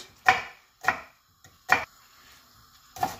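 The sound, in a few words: knife chopping onion finely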